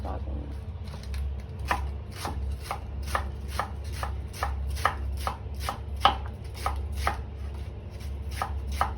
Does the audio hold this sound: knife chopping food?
yes